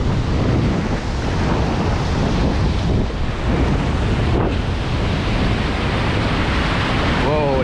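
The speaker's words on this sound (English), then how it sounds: "Have to race with the waves, you know." Ocean waves washing onto an Australian beach, a dense continuous roar of surf mixed with heavy wind buffeting the microphone, loud and close throughout.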